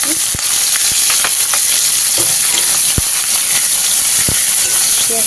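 Chopped onion hitting hot oil already holding whole garam masala and bay leaves, producing a loud, steady frying hiss with scattered crackles and occasional spatula taps, close and continuous.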